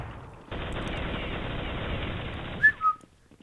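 Counter-Strike gunfire in a Search and Destroy match: a dense, steady roar of shots for about two seconds, then two quick whistling tones as it stops.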